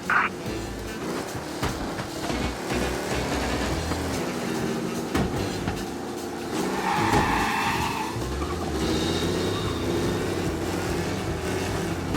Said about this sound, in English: Got a report of dangerous driving at high speed.